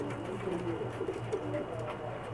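Pakistani racing pigeons flown at the Hajj Cup in Jeddah give a low, steady cooing that murmurs through the whole stretch, close by and moderately loud, with no one talking over it.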